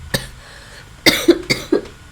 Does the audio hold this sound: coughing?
yes